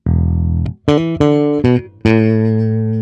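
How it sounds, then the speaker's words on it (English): A clean electric bass plays a short bluesy phrase: a held low note, then a few quick plucked notes ending on a long ringing tone. "So what I'd love you to do is learn this bass line."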